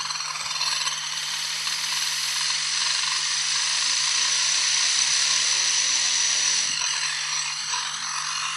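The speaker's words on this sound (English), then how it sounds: "When they're spun between the fingers on a mirror and then blown upon," Small welded ball-bearing hurricane balls spin on a mirror, giving a steady, close high-pitched whirring hum with a constant low drone that holds evenly throughout.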